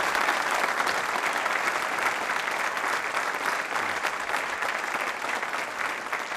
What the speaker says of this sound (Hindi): तालियां जोरों से बजाइए इस बात के